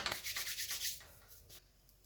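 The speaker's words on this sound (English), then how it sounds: "the reason that I rub my hands together so much" Dry hands rubbing together briskly in several quick strokes, close and fairly quiet, during M16 gel blaster repair work, with the strokes fading toward the end.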